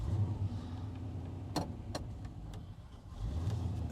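Engine of a 1980 Chevy K10 pickup idling, a steady low rumble heard from inside the cab, with a few faint clicks and light knocks over it.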